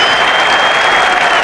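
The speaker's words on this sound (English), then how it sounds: "A rare cheer." Crowd applause and cheering at the 1981 Ashes fifth Test in England, a broad steady wash of clapping greeting a run, continuous and fairly loud throughout.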